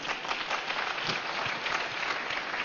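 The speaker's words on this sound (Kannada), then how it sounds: "ಚಪ್ಪಾಳೆ ತಟ್ಟೋಣ." Steady, dense applause from an audience gathered at a spiritual talk, sustained and even for the whole stretch, with no voices over it.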